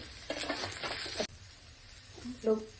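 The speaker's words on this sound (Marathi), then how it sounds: "बघू शकता व्यवस्थित असा मसाला आपला फ्राय झाला" Spice masala with ginger-garlic paste, turmeric, mixed masala, kitchen king masala and salt frying in a pan gives a loud, close sizzle that cuts off abruptly, followed by a brief faint voice.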